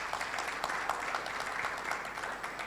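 An audience at a research and innovation commercialisation summit in Africa claps steadily throughout, a dense even wash of many hands in a large room.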